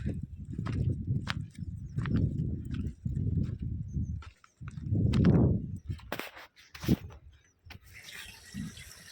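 A farm bull in a Konkan village walks nearby, its hooves giving repeated dull clip-clop thuds in uneven bursts, followed by scattered knocks and a brief splash-like rush toward the end.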